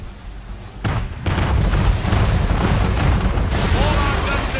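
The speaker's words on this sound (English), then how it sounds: "Man of war's firing!" A man-of-war warship fires its cannons in Assassin's Creed III. Heavy booming blasts open into a sustained, roaring rumble of repeated cannon fire that stays loud and close, while voices shout underneath.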